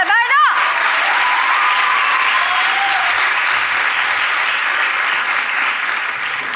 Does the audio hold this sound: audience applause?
yes